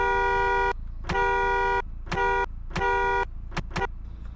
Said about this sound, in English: Here's what its horn sounds like.